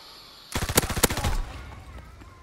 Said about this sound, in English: I just shot a teammate